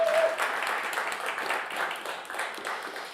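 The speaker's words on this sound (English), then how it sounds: "how about one more round of applause for the Montvales" A round of applause for the Montvales from a live bluegrass radio-show audience, steady dense clapping throughout, loud and close, with no talk over it.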